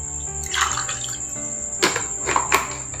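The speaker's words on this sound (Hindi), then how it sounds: "तकरीबन हाफ पानी ऐड करेंगे" Water splashes and trickles as it is poured into two glasses of ice for mango squash, with a steady hiss and a few sharper bursts of pouring.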